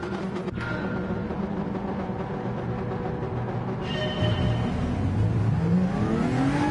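Genesis GR3 race car in Gran Turismo 7 pulling away from a grid start, engine note climbing steadily through first gear with rising harmonic whine, loud and continuous with no talk.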